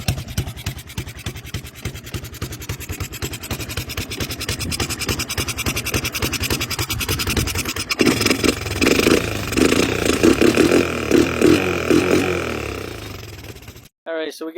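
An old Honda three-wheeler left to rot outdoors for years, its small engine running close by with a rapid, uneven putter that grows rougher and louder midway, someone talking over it before it cuts out.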